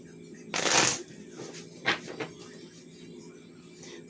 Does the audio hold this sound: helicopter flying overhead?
no